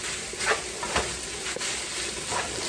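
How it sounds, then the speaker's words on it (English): Vegetables and three or four garlic cloves fry in a pan for a gluten-free shepherd's pie, an even sizzle with several soft stirring scrapes at regular intervals. "Let's give everything a stir"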